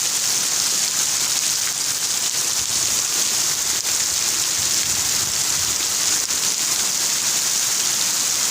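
Heavy rain pours steadily for several seconds, a dense even hiss of drops striking surfaces, constant and unbroken with no voices.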